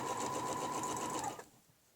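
Domestic sewing machine stitching a ruler-work quilting seam, a close, steady mechanical whir with a high motor whine that runs for over a second and then stops abruptly, leaving near silence.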